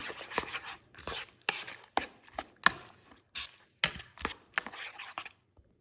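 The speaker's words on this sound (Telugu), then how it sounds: "మూడు ఎగ్స్ కొట్టి దీంట్లో వేసుకొని దీన్ని బాగా మిక్స్ చేసుకోవాలి" Three eggs being beaten in a bowl for a spicy masala omelette, heard as a quick run of about a dozen sharp, irregular taps and clinks, close and fairly quiet, with brief pauses and no talking.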